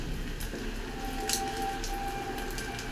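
Leftover-rice kurkure snacks fry in hot oil in a wok, giving a steady, dense bubbling hiss throughout with a faint clink near the middle, close and continuous with no voices.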